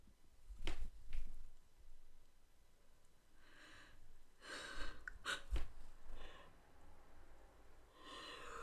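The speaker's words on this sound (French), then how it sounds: "vous avez entendu, j'ai baillé" A person yawns, with a long breathy sigh in the middle of the clip after a few sharp breaths and snorts. It is close and fairly quiet, with no talk.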